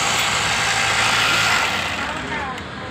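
A garment sewing machine runs a side seam in one continuous pass at a garment training center, a steady, dense motor whir that holds for a couple of seconds and then gradually eases off.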